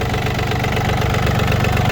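Three-cylinder diesel engine of a Yanmar F220 mini tractor idling steadily, a close, loud, even low rumble with a regular knocking pulse and no voices.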